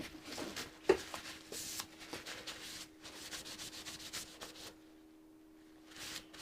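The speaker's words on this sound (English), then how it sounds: "Rafi Rodriguez is asking, Ben, what bevel angle do you aim for when you sharpen this gouge?" Steady rubbing and scraping strokes of a wood carving gouge being sharpened by hand, quiet and close, in a repeated rhythm that stops near the end before resuming briefly.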